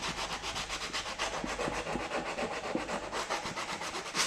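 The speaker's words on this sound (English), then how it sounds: "So we've got a 180 disc here, sanding disc," Abrasive rubbing from a 180-grit sanding disc worked by hand over hardened super glue during leather re-colouring on a car, a steady close scratchy scrub with repeated back-and-forth strokes, no talking.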